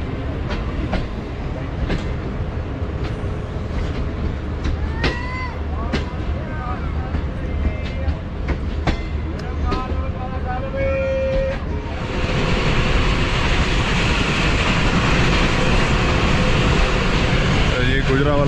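The Islamabad Express train rumbles steadily along the rails near Gujranwala, Pakistan, with rhythmic clacking and squeals, loud and close, the noise swelling louder partway through.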